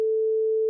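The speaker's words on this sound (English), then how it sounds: "This is 440 hertz" A pure 440 hertz sine tone, steady and clear, holding for under a second at even loudness with no other sound.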